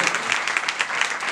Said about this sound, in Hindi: आप ताली दे सकते हैं प्रभु के लिए